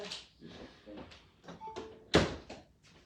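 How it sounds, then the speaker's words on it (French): A door is pushed shut indoors, one sharp thunk against a background of soft shuffling and handling noises, close and moderately loud. "je vais rabattre la porte"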